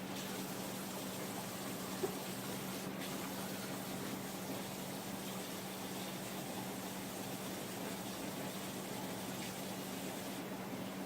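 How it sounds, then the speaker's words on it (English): Tap water runs steadily in a home kitchen while hands are washed, a continuous close hiss that stays even throughout, with no speech. "I'm gonna wash my hands"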